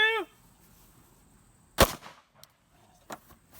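A single sharp 9mm defensive-round gunshot fired during ballistic testing, loud and close, followed by short echoing clatter and a smaller later crack; a brief voice sounds just before the shot.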